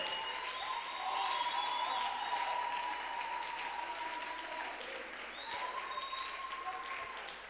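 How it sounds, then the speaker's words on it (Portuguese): Church congregation clapping together, a sustained wash of many hands heard under a preacher's drawn-out voice, fairly steady and moderately loud throughout. "Essas palmas não se assemelham."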